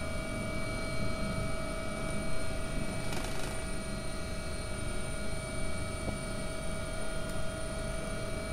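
An AW-139 air ambulance helicopter sets down in the X-Plane 11 flight simulator, its loud, steady rotor and turbine drone running without a break, with a couple of faint clicks near the middle.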